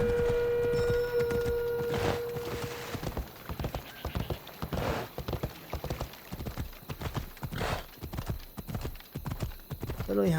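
Rapid clip-clop of a horse galloping in Assassin's Creed Odyssey, a fast, even run of hoofbeats close up, with a brief whinny and a tone near the start and speech over parts of it.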